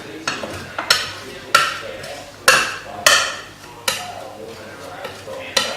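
The back of a knife mashes ingredients into a paste for homemade sirloin burger patties, making a series of sharp taps and scrapes in an uneven rhythm, close and moderately loud.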